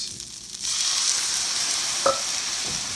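Onions simmering uncovered in beef broth and vinegar for French onion dip, a steady bubbling sizzle that swells after a quieter start, with one brief clink of a utensil near the end.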